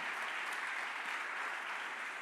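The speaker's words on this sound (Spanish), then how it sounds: "Dale un mejor aplauso al Señor" A church congregation applauds steadily throughout, a dense, even wash of clapping that holds at the same level without a break.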